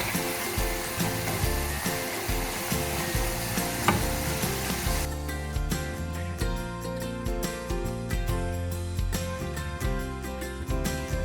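Food frying in a pan until crunchy gives a loud, steady sizzle throughout, with a busier, denser crackle in the first half before it settles into an even hiss with small pops.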